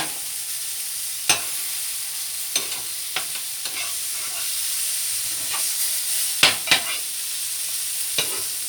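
Chicken pieces for butter chicken sizzle steadily in a hot frying pan, a constant close hiss punctuated by several sharp clicks and scrapes as the pan is handled, with no voices.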